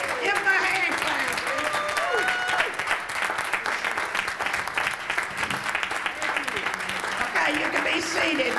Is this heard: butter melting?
no